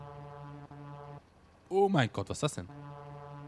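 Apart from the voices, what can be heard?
car horn sounding like a steamship, Farming Simulator 17 video game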